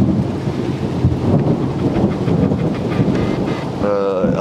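Rain falls steadily through a night thunderstorm while low thunder rumbles close by, loud and rolling, with a brief voice near the end.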